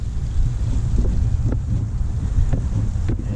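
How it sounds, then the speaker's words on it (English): Wind blowing hard on a windy day ahead of expected thunderstorms, a low rumbling buffet against the microphone with a few soft knocks, steady and close without speech. "It is quite windy today."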